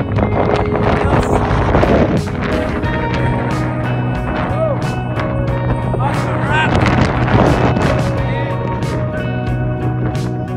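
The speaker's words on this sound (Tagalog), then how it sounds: "Taas ng hangin." Strong wind at Castle Rock, New Zealand, buffeting the microphone in loud, continuous rumbling gusts throughout, with voices talking over it.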